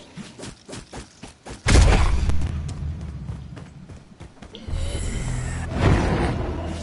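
Gunfire and explosions in Call of Duty Warzone zombie royale mode on PS4, a loud thudding burst of shots followed by sustained rumbling blasts and scattered bangs, with no talk over them.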